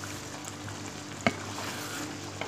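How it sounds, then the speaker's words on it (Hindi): Fish head curry masala with green chillies and garam masala fries in a pan, a soft steady sizzle with one sharp clang of a spoon against the pan mid-way during stirring. "अब हम इसको थोड़ा सा भूनेंगे"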